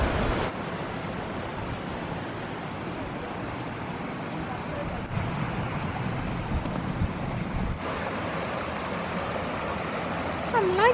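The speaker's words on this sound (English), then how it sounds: "the stream just tumbling gently down towards the ocean" A stream tumbles down the rocky valley at Tintagel in Cornwall toward the sea, a continuous broadband rush of water mixed with gusty wind buffeting the microphone, with two brief bumps partway through.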